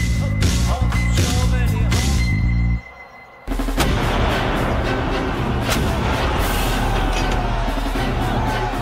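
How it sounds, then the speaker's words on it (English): Cannon artillery fire at the siege of Constantinople, a dense, loud barrage of booms and blasts layered over music, broken by a brief near-silent gap before the roar resumes. "As the guns began to fire from all directions, it became abundantly clear Constantinople was doomed."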